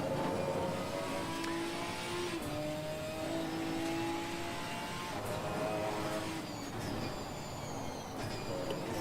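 A Ginetta race car drives a lap at Imola while oversteering, its engine note climbing and dropping through several gear changes, loud and steady, with brief high squeal-like tones near the end.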